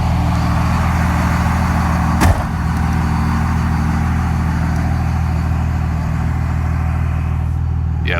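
A 2001 24-valve Cummins diesel truck engine idles steadily with a constant low rumble, close and loud, with one brief knock partway through.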